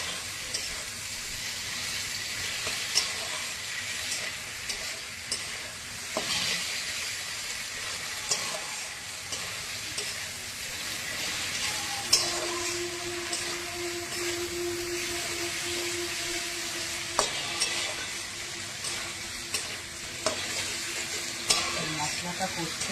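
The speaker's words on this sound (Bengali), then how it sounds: "মশলাটা কষতে থাকি" Masala with softened tomatoes sizzles and fries in a pan, with a continuous hiss and steam, punctuated by repeated scraping of a stirring spoon, close up and mostly alone with a little talk.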